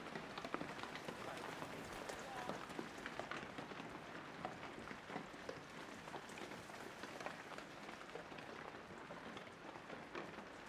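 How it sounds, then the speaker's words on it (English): Rain falling in the game Shenmue 3, a faint, steady patter of drops hitting surfaces throughout, with no voices. "Oh, it start to rain."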